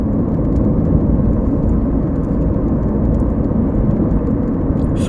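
Steady low engine rumble and road noise fill the cabin of a moving car, a constant broadband drone with no speech and only faint scattered higher ticks over it.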